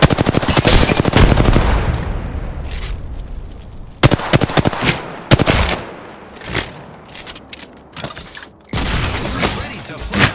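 Gunfire in Apex Legends, a solo match played with a Pathfinder skin: rapid automatic bursts and single loud shots come in repeated volleys with brief pauses, close and harsh.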